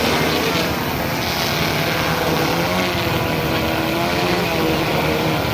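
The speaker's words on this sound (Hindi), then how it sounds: "तो यहाँ पे ड्रोन उड़ना शुरू हो चुका है।" Large agricultural spraying drone flying over terraced village fields to spray pesticide, a loud, continuous whirring rotor drone that stays steady throughout, near and unbroken, with no voices.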